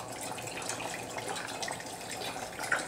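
Low sodium vegetable broth pours into a small pan in a home kitchen, a steady soft stream of splashing liquid heard alone at moderate level.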